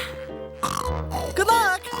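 A cartoon pig oinks and grunts in an animated children's show, a few short squeals mixed with voiced talk, close and fairly loud.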